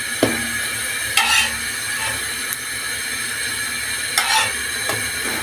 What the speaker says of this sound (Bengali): এমনভাবে লাল করে ভেজে নেবেন।